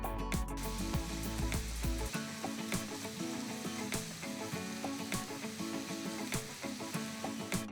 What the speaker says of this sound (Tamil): இது கூட பொடுசா நறுக்கிற 2 பெரிய வெங்காயத்தை சேர்த்து நல்லா வதக்குங்க.